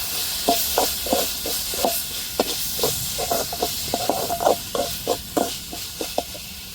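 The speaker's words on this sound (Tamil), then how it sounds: "இப்போ கருவேப்பிலை சேர்த்துக்கிடுவோம்." Curry leaves sizzling in hot oil with fried onions, a steady hiss broken by rapid crackling pops and stirring knocks, close and alone with no voices.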